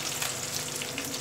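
Small onions sauteing in hot oil for a Tamil fish curry (meen kulambu), giving a steady, close, fairly soft sizzle and crackle throughout with no talking.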